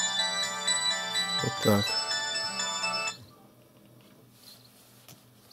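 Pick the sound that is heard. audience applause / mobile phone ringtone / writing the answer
mobile phone ringtone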